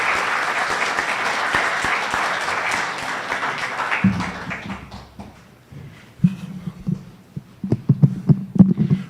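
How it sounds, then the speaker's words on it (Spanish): Warm audience applause at a university lecture, a dense steady clatter of many hands for about four seconds that thins and fades, followed by someone speaking with scattered taps and microphone handling. "Vamos a brindarle un caluroso aplauso"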